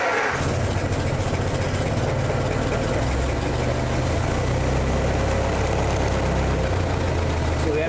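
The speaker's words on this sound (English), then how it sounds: "we're going to go ahead and fire up and see what she sounds like." A 1916 fire engine cranks to life and settles into a loud, rough idle, a steady low rumble that continues throughout.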